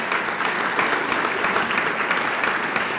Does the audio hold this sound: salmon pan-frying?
no